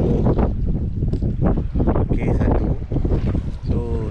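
Blustery seaside wind buffets the microphone at Pantai Balok beach in Pahang, a steady loud rush with boat and water noise beneath, while people talk faintly over it.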